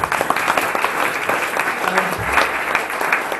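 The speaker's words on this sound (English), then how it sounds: "A big round of applause for all our speakers this evening" A roomful of people at a VR meetup in Brighton clap steadily for the evening's speakers, a dense, even burst of applause lasting a few seconds with no talk over it.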